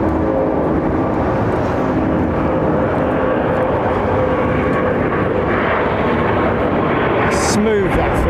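An Airbus A350 airliner lands at London Heathrow, its engine roar a steady, loud broadband wash throughout, with a faint voice now and then underneath.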